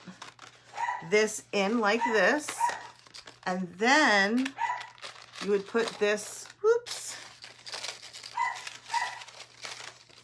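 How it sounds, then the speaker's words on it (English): A dog barks repeatedly nearby in a series of loud, sharp barks with a few yips, while someone talks over it during gift wrapping. "the dog's barking"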